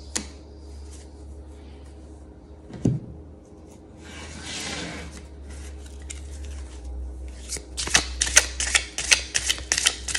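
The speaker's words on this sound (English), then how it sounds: "It's not the easiest deck to shuffle." A tarot card deck is shuffled with dry papery riffles and taps that grow denser and louder toward the end, against a low background hum.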